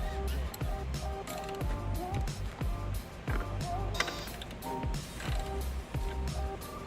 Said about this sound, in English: We'll take our ratchet, just hit them once, just to make sure that they're good and snug.